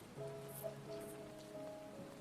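Soft, steady rain patters on a surface, faint and close, with a low hum underneath.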